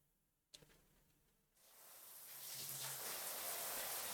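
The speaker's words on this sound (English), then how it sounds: "When I open my eyes to the sound of the rain" A rain sound effect from the Baldr Sky visual novel starts quiet with a single tap, then swells into a steady, dense downpour hiss that holds to the end.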